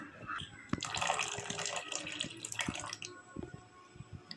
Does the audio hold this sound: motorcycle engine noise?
no